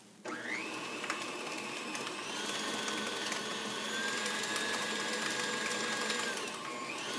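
An electric stand mixer whirs steadily at constant speed while beating butter and Crisco for buttercream icing, a close, continuous motor drone with a faint tonal whine and no speech.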